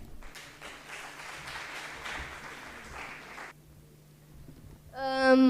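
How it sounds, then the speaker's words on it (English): Modest applause from a university conference audience greeting a speaker, moderate clapping for about three seconds that stops abruptly, followed by quiet and then a sharp burst of tonal feedback or music. "Ladies and gentlemen, with huge round of applause, Mohammad Hasnain."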